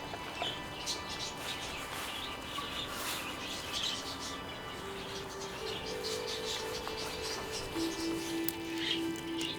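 A pet budgie chirps softly indoors, scattered faint tweets and squeaks over a hissy room background, with a few thin sustained tones partway through.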